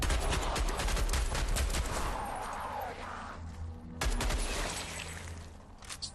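Video game gunfire in Beneath comes as rapid, loud bursts of shots for the first couple of seconds, eases off, then erupts again in a second dense volley before tapering away.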